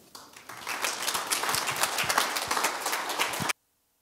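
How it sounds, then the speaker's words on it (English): Conference audience applauds as a keynote speaker on public land management is welcomed, a burst of many hands clapping that builds quickly, holds steady and full for about three seconds, then cuts off abruptly to silence. "Please join me in welcoming this afternoon's keynote speaker, Dr. Martin Nye."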